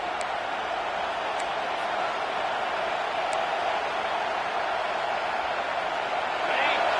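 A college football stadium crowd roars as a continuous, dense wash of distant cheering and chatter that holds steady throughout, swelling slightly near the end.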